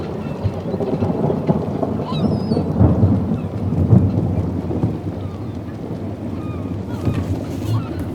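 Low rolling thunder rumbles in waves over a steady wash of rain as a heavy downpour approaches outdoors.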